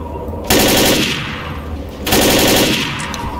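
Video game gunfire crackles in two loud, close bursts of rapid automatic fire, each lasting about a second, separated by a brief lull.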